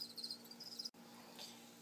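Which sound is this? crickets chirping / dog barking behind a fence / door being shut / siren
crickets chirping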